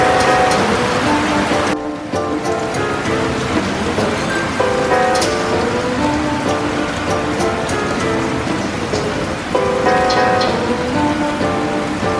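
Rain falls on a wet day in Jamaica, a loud close patter on surfaces with irregular drips and knocks over a steady wash.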